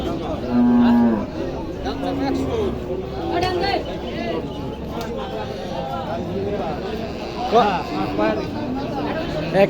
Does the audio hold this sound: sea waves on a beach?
no